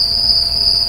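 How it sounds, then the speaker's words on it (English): A video game cricket gives a steady, high, continuous chirping trill, loud and alone for under a second. "Cricket."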